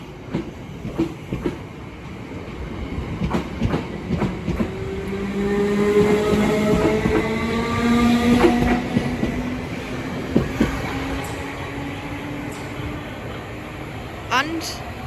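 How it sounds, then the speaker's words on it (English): A Southern passenger train departs Sydenham station on the Brighton Main Line towards London Bridge, its rising motor whine and rail clatter building to a peak mid-way and then fading, with a station announcement voice heard. "Now departing is the 1341 Southern service from Colston Town to London Bridge"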